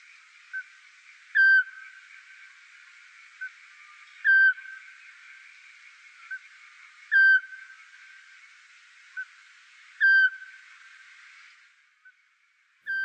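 A Eurasian scops owl calls at night, giving a single clear, whistled note about every three seconds, repeated regularly over a soft, steady background of night insects.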